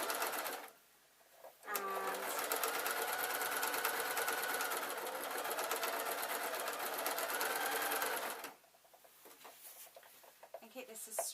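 Close, steady whirring of a sewing machine stitching a quilt, running continuously for about seven seconds between quieter moments of handling.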